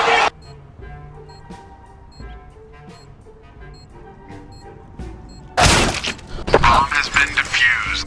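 Loud, sharp burst of rapid gunfire in a terrorist-side match of a tactical shooter game, following several seconds of quiet ticks and faint clicks, with crashing impacts trailing off.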